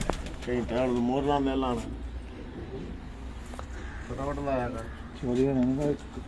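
Pigeons coo in warbling bursts on a rooftop while people talk nearby.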